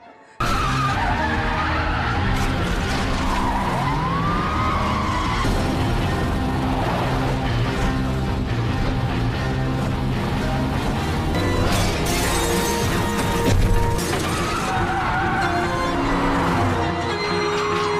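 Tires screech and skid continuously through a film's police car chase, loud and sustained with engine roar, impacts and a possible glass shatter, no talking.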